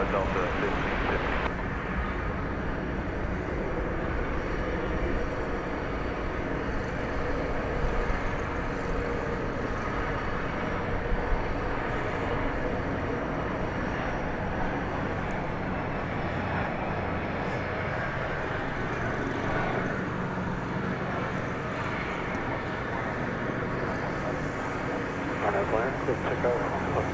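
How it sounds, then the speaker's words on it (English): American Airlines jet at DFW Airport, bound for McAllen, Texas, giving off a continuous broad engine rumble and hiss that stays level throughout, with voices talking over it. "This is an American Airlines flight to McAllen, Texas."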